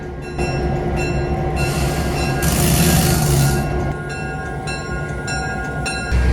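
A Heber Valley heritage train in Utah rumbles and clatters along the tracks nearby as it departs, with a steady metallic drone and a brief surge of hissing noise midway.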